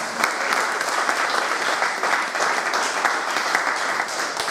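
A church congregation claps in sustained, dense applause during a worship service, a steady crowd of hands heard without any voices rising above it.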